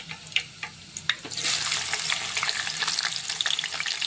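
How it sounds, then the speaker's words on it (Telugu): Onions drop into hot oil in a kadai for deep frying for mutton kheema biryani. A few splashes and plops come first, then a loud, steady sizzle that carries on without talk. "దీంట్లో మాత్రము ఉల్లిగడ్డ డీప్ ఫ్రై చేసుకోవాలి"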